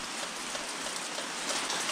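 Rain falls steadily during a fishing trip, a soft, even patter of drops hitting surfaces that stays faint and uniform throughout without talk.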